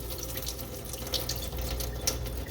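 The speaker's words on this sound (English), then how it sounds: "So this is the last time I'm going to be washing the dal." Water from a tap splashes and rinses dal in a kitchen for its final wash, a steady hissing flow with small sharp drips and splashes and no talking.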